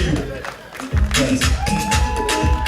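Audience at a charity gala clapping and cheering in a burst that starts about a second in, a dense crowd roar with whoops, busy and fairly loud throughout.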